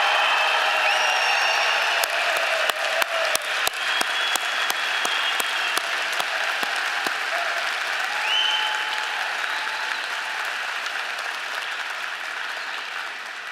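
Sustained applause from a large commencement audience celebrating a graduating veterinary class, steady and dense throughout with a few sharp claps standing out and faint voices mixed in.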